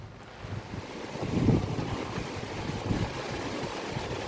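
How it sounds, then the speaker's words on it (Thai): Strong wind and rain roar outdoors beside a forest stream, a continuous gusty rush with a louder surge midway, close to the microphone with no voices. "ลมนี่โคตรแรงเลย"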